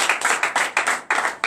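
Hands clapping in quick succession at a night deliverance church service, about eight crisp, close claps in a brisk rhythm, each with a short tail of room echo.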